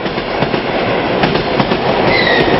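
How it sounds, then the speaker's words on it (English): A private Trans-Siberian train hauled by a diesel locomotive rolls steadily on rails across the steppe, with a continuous loud rumble, rhythmic wheel clatter and a faint squeal near the end. "The Tsar-and-Gold train is pulled through the steppe by diesel locomotives."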